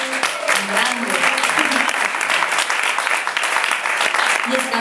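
Concert audience applause at a show in Sala La Bóveda, Zaragoza: a loud, sustained wall of clapping with faint cheering voices mixed in, steady throughout.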